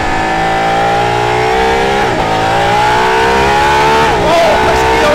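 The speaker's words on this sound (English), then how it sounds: "I could drive this fast around here, and Darren can drive that safety car." A fast car with an electric boost system laps a track, its engine rising in pitch through repeated upshifts and climbing revs, loud and close from inside, with talk partly over it.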